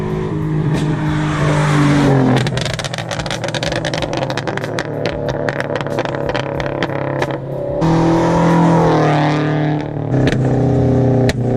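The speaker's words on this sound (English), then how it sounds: "But it does have like the nice Subaru rumble." A modified Rocket Bunny Subaru FRS gives a loud, deep engine and exhaust rumble that rises and falls through revs, with sharp popping bursts in the middle and sustained droning throughout.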